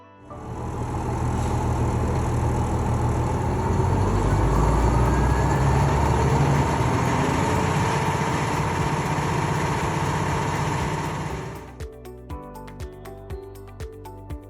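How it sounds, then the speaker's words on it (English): A CKS2500 crane engine runs at a steady, loud drone for several seconds, then cuts to a quieter idle with intermittent clicks. "To adjust the engine speed, use the accelerator grip."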